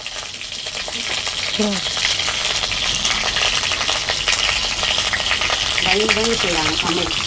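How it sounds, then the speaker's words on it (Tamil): Brinjal sautés and spatters in hot oil, a loud, continuous crackling sizzle that runs throughout, with brief voices heard faintly underneath now and then. "நம்ம கத்திரிக்காய் வதக்கி எடுத்துக்கலாம்."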